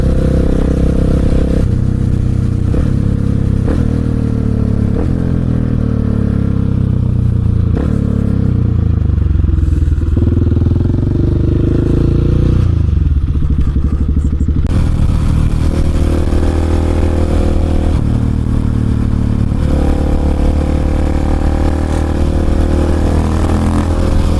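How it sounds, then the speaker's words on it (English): A Husqvarna 701 motorcycle is ridden through an indoor dealership, its engine running loud and close throughout. Its revs rise and fall amid clattering and scraping. "it's only appropriate to ride the Husqvarna through the Husqvarna dealership."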